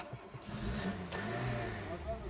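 A Tofaş Kartal car engine revs up from a steady low idle in a garage setting, the throttle rising and holding for a couple of seconds while people talk nearby.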